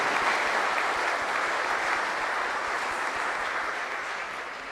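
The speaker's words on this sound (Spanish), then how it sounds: "Al coro, un aplauso, felicidades." Sustained applause from a church congregation for the choir after a Holy Hour service, a dense, steady wash of clapping that fades slightly toward the end with no voices over it.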